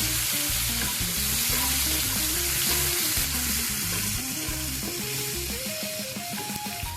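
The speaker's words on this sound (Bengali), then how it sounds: "এবার ভালো করে ভেজে নেব টমেটোটা আর পেঁয়াজের সাথে।" Tomato and onion pieces frying in hot oil in a pan, a steady loud sizzle running throughout, with a layer of tonal music playing over it.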